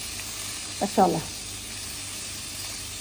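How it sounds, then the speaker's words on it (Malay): Blended garlic, shallots and ginger sizzle in hot oil for sambal sotong, a steady close hiss with a brief stir of the pan and a short spoken word. "kita masukkan pula bawang putih, bawang merah, halia yang telah di blender"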